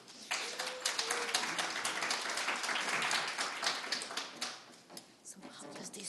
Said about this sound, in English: So in a round of applause